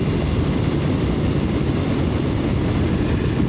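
A Moto Morini Calibro motorcycle pulls in sixth gear at about 3,500 rpm. A loud, steady drone mixes with heavy wind rush at constant intensity, with no voices.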